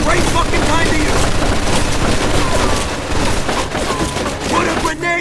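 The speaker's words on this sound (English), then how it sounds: "Looks like we found a machine gun!" Machine gun fire in the Mafia 2 video game: dense, continuous bursts of rapid shots that barely pause for about five seconds, loud and close, with game voices underneath.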